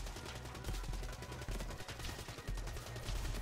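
Gunfire from the video game Call of Duty Dead Ops Arcade, a dense, fairly quiet stream of rapid shots and crackling bursts that runs on almost without a pause.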